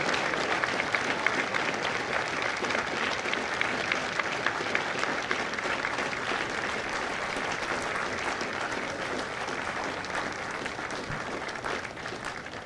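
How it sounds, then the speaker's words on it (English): Sustained, dense applause from a large audience at a Marine Corps recruit graduation ceremony at MCRD San Diego, filling the whole stretch as a steady, even roar of many hands clapping. "Ladies and gentlemen, a round of applause for their dedicated service to Corps and country."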